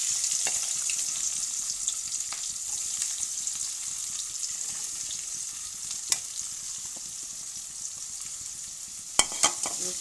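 Chopped onion frying in mustard-scented fish oil with black cumin, for a pabda fish curry, gives a steady close hiss and sizzle with a few sharp spatula clinks near the end, no voices.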